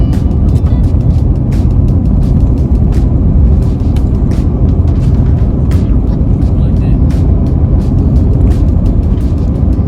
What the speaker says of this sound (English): We're still driving.